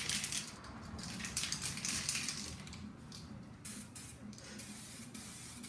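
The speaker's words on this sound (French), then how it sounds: "puis on est prêt à vaporiser." Black 2K aerosol paint sprayed in close, loud hissing bursts with brief pauses, steady and without talk.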